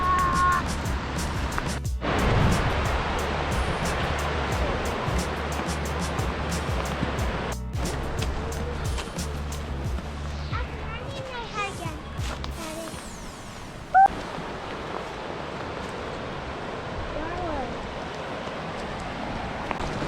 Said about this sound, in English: Anytime you hike and you get a beautiful river, stream, brook, anything like that to walk beside, awesome, awesome soundtrack to your hike